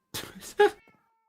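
Cat meows from Minecraft, three short mews in quick succession, close and clear, with no talk over them.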